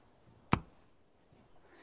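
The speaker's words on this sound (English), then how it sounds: "that clicking that you're hearing is actually the module kind of doing its thing" A modular synthesizer module gives a single sharp click, close and distinct, over a faint background hiss, with no talking.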